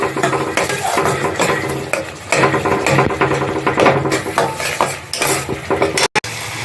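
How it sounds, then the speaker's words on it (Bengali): A spoon stirs sour yogurt into masala in a pan for palong paneer, with dense scraping and clattering against the metal over a low sizzle. The strokes come in quick, uneven bursts and end with a brief sharp break. "টক দই দিয়ে আর একটু ভালো করে নাড়িয়ে নেব"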